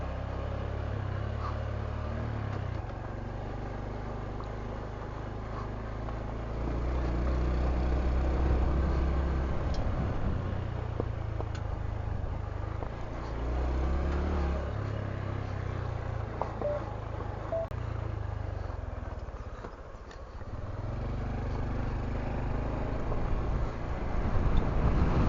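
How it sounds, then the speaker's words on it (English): Strong desert wind in Arizona buffets a rider on a Honda Trail125 motorcycle, giving a steady, close, low roaring rumble that swells and dips throughout with no speech. "that wind blowing me sideways just about"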